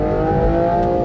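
A naturally aspirated V12 engine in a 2025 Aston Martin Vanquish drones at a steady, even pitch, a warm, smooth mechanical hum held loud and close without rising or falling.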